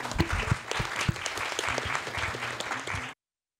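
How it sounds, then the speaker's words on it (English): Warm applause from the audience at a talk on greenwashing and the green transition: a few seconds of steady, moderately loud group clapping that cuts off abruptly into silence. "Warm applause."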